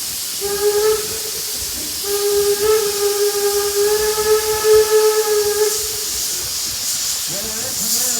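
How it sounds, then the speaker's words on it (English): A steam whistle blows on the D&LN #7 steam locomotive over a steady loud hiss of steam. There is a short blast, a pause, then a longer sustained tone, and the hiss carries on after the whistle stops. "What our engineer is showing right now is venting the steam out of the steam drum to clear the remains of any sediment that might be forming"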